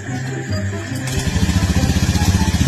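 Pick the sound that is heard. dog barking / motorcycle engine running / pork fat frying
motorcycle engine running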